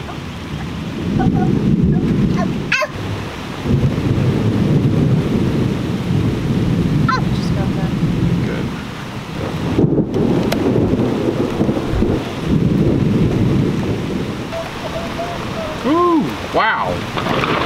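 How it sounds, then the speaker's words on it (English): Heavy rain pours steadily while low thunder rumbles and booms roll through, with a few sharp cracks; a voice speaks briefly near the end. "this is a decent thunderstorm"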